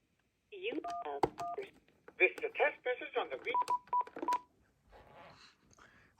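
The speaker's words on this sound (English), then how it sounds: "You can access them by dialing an access number on your phone." Paired DTMF keypad tones from a phone line dialing an access number to reach voicemail, short evenly spaced beeps in two quick bursts and then a run of three, set among recorded prompt speech.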